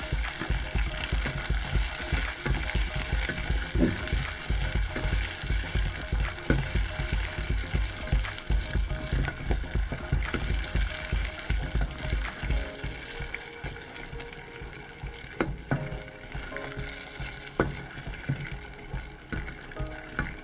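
Butterscotch caramel made with salted butter bubbling in a pan, a steady dense crackle and fizz with small irregular pops throughout, no voices.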